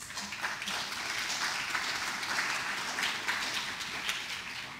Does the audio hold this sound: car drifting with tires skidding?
no